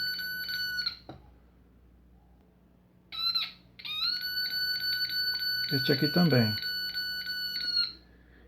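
A short-circuit component identifier on an electronic circuit board emitting steady high-pitched electronic beep tones in bursts, with a brief spoken comment partway through.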